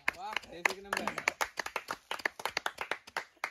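Hands clapping indoors after a family challenge game, a quick run of sharp, close claps that speeds into a rapid patter, with a voice talking over the start.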